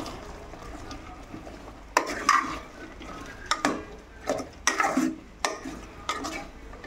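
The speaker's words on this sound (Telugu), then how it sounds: "మళ్ళీ ఒకసారి మిక్స్ చేసుకోవాలి" Chicken curry with coriander powder being stirred in a pan, a spoon scraping and clinking against the metal in several distinct strokes over a soft, steady background, close by and with no voices.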